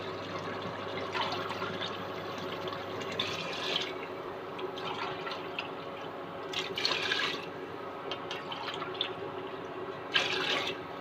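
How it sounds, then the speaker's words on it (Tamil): Water pours and splashes into a cooking pot for chicken thari in several uneven bursts, with dripping and a low steady background between pours. "இப்போ வந்து தண்ணி ஊற்றிடலாம்."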